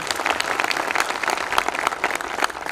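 Sustained audience applause from a crowd at a brand event function in Malkapur, dense continuous clapping filling the whole stretch at steady loudness with no talk over it.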